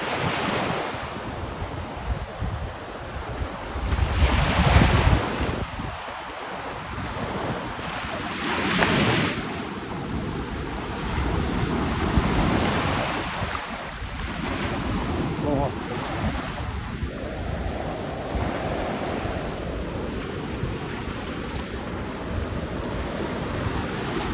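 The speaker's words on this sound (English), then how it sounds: "Nice little swells coming in." Ocean swells and surf roll in at Kaanapali Beach, a broad washing roar that rises and falls over the whole stretch, mixed with steady wind buffeting the microphone.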